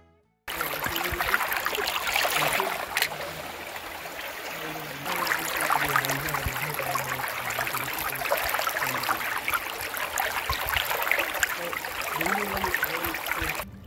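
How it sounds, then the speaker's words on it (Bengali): Forest stream water flowing steadily along the Jhorjhori Trail in Sitakunda, with a continuous close rush and trickle throughout and no voices. "পানির ধারার এই শব্দটা আমার জন্য মেডিটেশনের মতো কাজ করে।"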